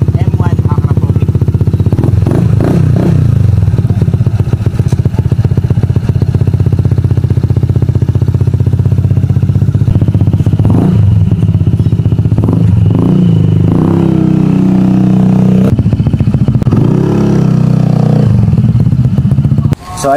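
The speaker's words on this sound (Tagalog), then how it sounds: "Kaya naman, sound check po tayo mga boss. Honda ADV 160 M1 Acropovic." A Honda ADV 160 scooter fitted with an M1 Akrapovic full-system exhaust runs loud and close, its deep exhaust drone swelling with repeated revs and throttle blips for about twenty seconds.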